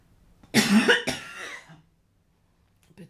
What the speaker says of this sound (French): cette observation te fait tousser